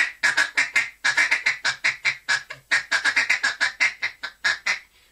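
A duck call blown in rapid, rhythmic bursts of quacking feeding chatter, close and loud, in quick repeated runs with brief pauses.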